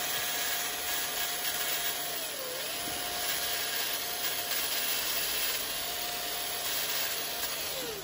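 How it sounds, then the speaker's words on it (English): An electric drill runs steadily on wood during a woodturning job making a handle, a continuous whine that dips briefly in pitch as it loads up, with no talking. "I can use my drill for this."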